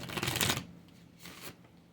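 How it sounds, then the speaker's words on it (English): A deck of angel cards is shuffled by hand, a half-second burst of riffling followed by a second, softer flutter, close and quiet. "I want the angel cards for this"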